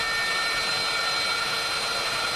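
A hair dryer drawing about 250-270 W runs from a portable power station, with a steady, loud whooshing hum and a faint high whine, unchanging throughout.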